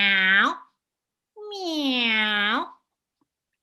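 A person imitates a cat meowing during a told story, two drawn-out, close and clear vocal meows separated by a short pause, with no other sound around them.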